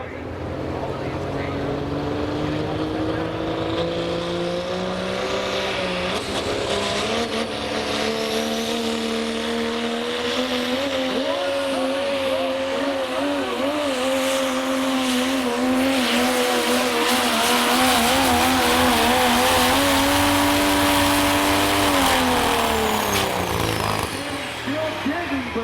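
Pulling truck engine at a speedway truck pull, roaring loudly and steadily as turbo boost builds, with a rising turbo whine over the drone while an announcer talks throughout.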